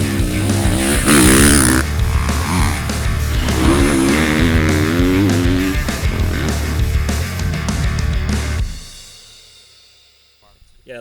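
A GASGAS motocross motorcycle engine runs loud and close, its pitch rising and falling through revs before dropping away to quiet near the end; a voice may be heard.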